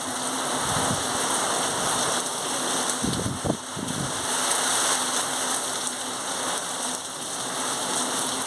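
Heavy rain pours steadily as a dense, loud hiss, with a few low rumbles or thuds around the middle and no voices.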